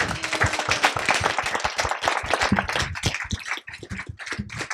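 An audience at a youth sports and activism summit applauds, crisp individual claps close and distinct within a lively steady patter that thins slightly toward the end.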